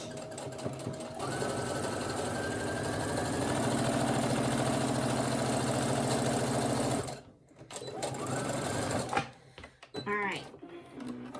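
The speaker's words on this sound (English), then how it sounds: "We're going to top stitch. All right, here we go. Back stitch." Brother SE1900 sewing machine top stitching a pouch, a fast, loud, steady mechanical whirr that runs for about seven seconds, then stops, followed by shorter bursts of stitching and handling noise.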